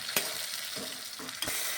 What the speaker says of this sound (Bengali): টমেটোটাও ভালো করে আমি মশলার সঙ্গে মিশিয়ে নিচ্ছি